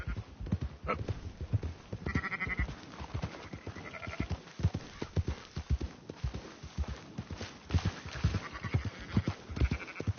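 Sheep bleating repeatedly among rhythmic horse hoof clip-clops on a ranch in a Wild West video game, the bleats coming in short wavering bursts over the steady trotting beat, fairly close.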